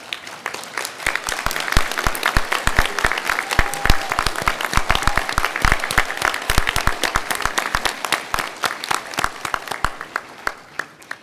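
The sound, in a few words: applause for graduates' friends and family at convocation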